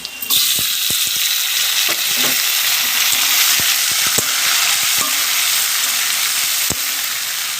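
Chopped tomato fries with browned onions in hot oil in a pan for a Bengali rui fish curry, giving a loud, steady close sizzle broken by sharp clicks of a spatula stirring, with no talking.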